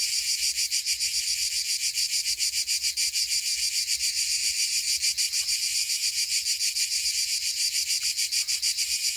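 Dense, steady insect buzzing from cicadas, a continuous high-pitched shrill pulsing in rapid rhythm throughout, loud and unbroken with no voices.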